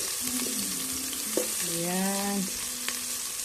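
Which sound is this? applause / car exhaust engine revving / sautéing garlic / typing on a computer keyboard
sautéing garlic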